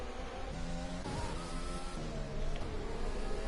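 A race car on track in a racing game, its engine note stepping up through gears in a series of rising whines, loud and close, continuous without talk.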